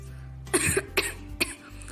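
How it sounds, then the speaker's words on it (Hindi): A cartoon character gives three short, harsh coughs in quick succession, close by, with brief pauses between them over a quiet background. "आपको ये खांसी कब से है?"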